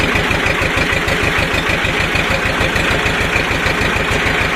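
Old diesel tractor engine idling after a cold start, a loud, close, steady rapid chugging knock with even rhythm and a rough mechanical rattle, running alone without voices.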